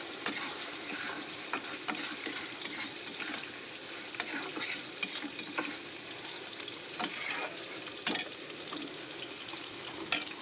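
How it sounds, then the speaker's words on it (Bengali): Prawns that were fried earlier are sautéed with spice paste in a pan, giving a steady close sizzle and frying hiss with scattered scraping stir strokes, with no one talking. "ওর মধ্যে ভেজে রাখা চিংড়ি মাছগুলো আজকে দিয়ে দেবো, দিয়ে মশলার সাথে কষাবো।"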